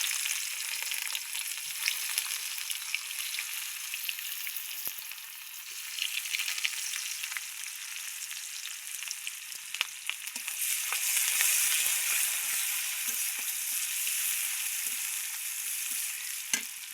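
Chopped onions frying in a pan give a loud, steady hiss with occasional crackles and stirring clicks throughout, no voices.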